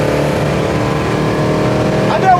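A 600 hp 1973 Dodge Challenger pulls hard at high speed, its engine note loud and droning from inside the car with a slight rise in pitch.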